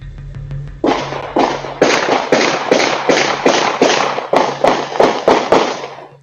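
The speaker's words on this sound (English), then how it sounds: "The CCTV footage shown on screen captured the sound of nearby gunshots" Nearby gunshots ring out on CCTV footage after a marketplace meetup goes wrong: about a dozen sharp, loud bangs fire in a quick, fairly even series, each with a short echoing tail.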